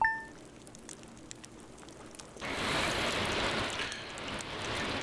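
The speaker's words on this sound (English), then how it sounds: "Oh, sounds like rain." Steady rain falls in Stardew Valley, starting after a short quiet chime and hush, then a loud, even wash of rainfall keeps going to the end, alone without voices.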